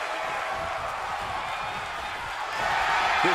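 A WWE 2K22 video game crowd roars through an NJPW eight-man tag wrestling match, a steady broadband din that swells louder near the end.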